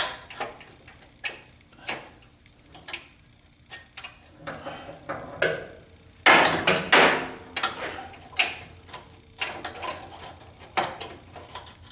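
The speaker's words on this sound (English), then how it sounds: "wanted to drive that in with the dead blow hammer" Repeated sharp dead blow hammer blows on metal suspension parts of a 1976 Corvette, close and fairly regular, with a louder cluster of heavier strikes partway through; no speech.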